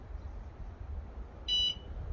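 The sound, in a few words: motorcycle alarm beeping as it is armed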